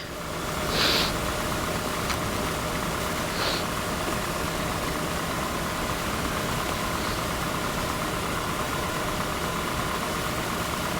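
A Volvo S80 AWD engine idles steadily and evenly, close to the microphone, with a faint mechanical tick riding on the hum and a couple of brief higher chirps early on.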